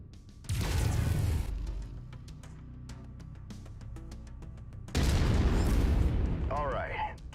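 Weapons fire from a mech in a video game, two loud bursts with heavy low-end rumble, separated by a quieter stretch of machine hum and clicks, and a voice speaking over it.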